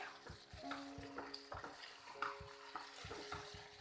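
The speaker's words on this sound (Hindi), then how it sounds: "और गरम मसाला डाल देंगे। दोनों को अच्छे से मिक्स करेंगे" A spoon stirs okra sabzi in a pan after salt and garam masala go in, a run of quiet rhythmic scrapes and clinks against the metal, close and faint, with no talk.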